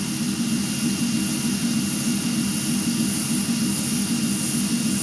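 A Langmuir Systems MR-1 CNC mill cuts aluminum under mist coolant, producing a loud, steady roar of spindle and air hiss with a faint regular pulsing beneath it, continuous and close throughout.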